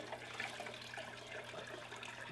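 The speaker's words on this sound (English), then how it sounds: "Water's going in." Tap water flows steadily into a container while dechlorinator is being prepared, a soft continuous splashing and trickling at close range with no voices.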